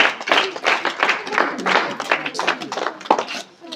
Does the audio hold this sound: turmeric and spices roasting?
no